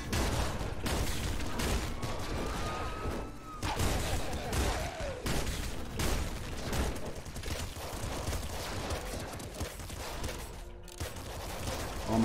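Dense, continuous gunfire from the video game Nuclear Throne Ultra Mod, rapid shots and impacts layered with game effects, steady and loud throughout.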